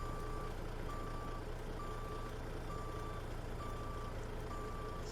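Truck reversing, its backup alarm beeping in an even, regular rhythm over a constant loud engine idle, close and with no talk.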